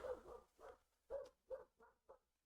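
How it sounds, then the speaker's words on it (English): A neighbor's young border collie barks in the background, six sharp yelps in an uneven rhythm, fairly faint and distant, with no one speaking. "If you hear a dog barking in the background, that's the neighbor's dog."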